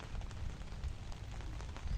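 Rain falls on a tent, a steady patter of drops on fabric with soft low thumps and occasional heavier drips, continuous and moderately quiet throughout.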